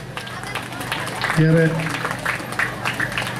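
At a school's 113th anniversary celebration, the audience gives a diffuse patter of applause, moderately distant and low, while a speaker keeps talking over it.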